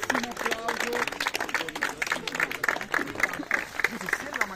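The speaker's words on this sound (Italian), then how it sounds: "Grandissimo applauso!" Applause and lively crowd noise at a tournament award ceremony as the runner-up is honored, rhythmic clapping mixed with voices and cheering close by.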